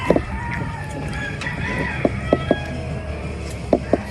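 A rooster crows over a dull outdoor rumble, with a few sharp clucks and clicks popping up near the end.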